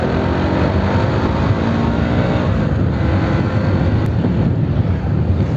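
Heavy road traffic makes a loud, continuous roar that stays steady and unbroken for the whole stretch, with no voices.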